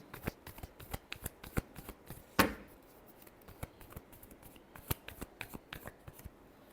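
Tarot cards are shuffled by hand in a quiet room, a rapid run of crisp riffling flicks with one louder snap partway through.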